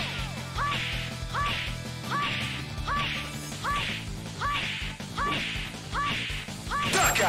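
Cartoonish duck quacks from the game Lost Judgment repeat in a steady rhythm about once a second, eight in all, loud and close over a busy game soundtrack with thumping hits.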